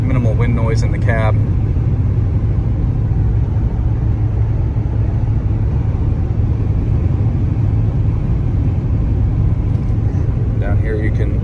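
Cab interior of a 1989 Ford F-250 XLT Lariat pickup cruising steadily at 55 mph, a constant low engine and road rumble with little wind noise and faint brief clicks at the start and end.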